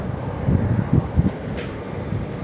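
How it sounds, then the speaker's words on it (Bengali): A crowded Mohanganj-to-Dhaka passenger train rumbles steadily along, heard from the roof, a deep continuous roar with a few heavier clunks and thumps rising from the rolling noise. "এই যে দেখেন ট্রেনটা চলছে"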